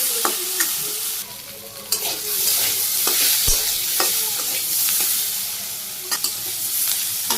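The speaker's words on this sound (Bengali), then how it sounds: "লবণ, কাঁচামরিচ, হলুদের গুঁড়ে, শুকনো মরিচের গুঁড়ে নেড়ে চেড়ে কষিয়ে নিই।" Soybean curry with salt, green chilli, turmeric and dried chilli powder is stir-fried in a pan, a steady loud sizzle running throughout with scattered scraping and tapping of the spatula, no voices.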